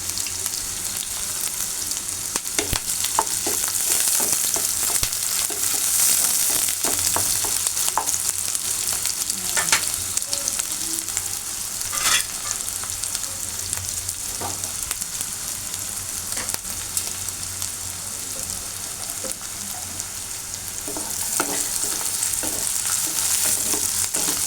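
Onion and green chilies fry in a pan with a continuous loud sizzle, broken by occasional scraping stirs and utensil clicks, close up with no talk.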